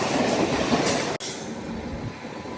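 A train passes on the next track at Chennai Central station, a steady close rumble of rolling wagons with rail noise and faint squeal, no voices.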